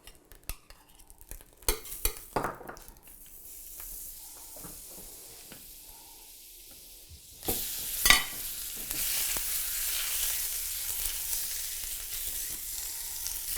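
Pork chops frying in a tri-ply pan with added oil and butter, a steady loud sizzle that swells midway, preceded by scattered clinks and scrapes of utensils and pan handling.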